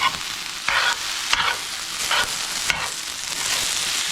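Plant-based bulgogi fried rice fries and caramelizes in a pan, a loud broadband sizzle broken by several scraping stirs of a utensil against the pan bottom, close and steady with no talking.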